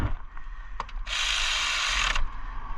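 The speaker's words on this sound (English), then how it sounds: "if you have just a regular ratchet, you can go ahead and put them in" A ratchet snugs down bolts on a 2000-2006 Nissan Sentra thermostat housing, a steady bright mechanical whir running for about a second close to the mic, with single clicks just before and after.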